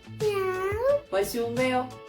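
A child imitates a cat's meow, giving drawn-out, wavering mews that rise and fall in two or three close, clear bursts, with short speech from an adult between them.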